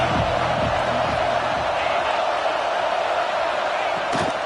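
Stadium crowd at a college football game roaring steadily from a distance, a dense, loud wall of cheering with a few muffled thumps underneath.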